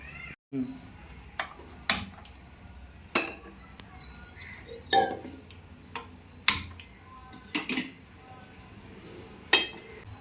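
A metal pan set down on a stove to start cooking curry, giving a series of sharp clinks and clanks at irregular intervals over a faint background hum, with no talking.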